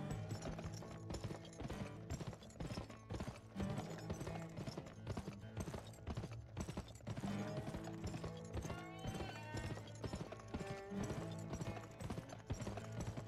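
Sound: horse hooves clip-clopping in the video game GUN

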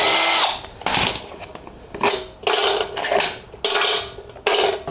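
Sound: impact wrench with 10 millimeter socket undoing air filter bolts

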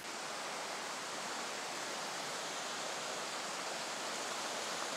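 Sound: waterfall

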